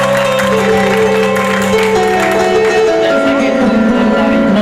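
Loud, dense audience applause and crowd noise fill a live prize show hall, a continuous wash of clapping with music tones running underneath throughout.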